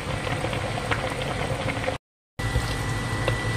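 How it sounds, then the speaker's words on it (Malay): A pot of yellow coconut curry with fern shoots bubbles at a steady boil, a dense continuous simmering hiss with small pops, close and fairly loud, broken by a brief moment of silence. "masak lemak air pucuk paku gelegak dah tu"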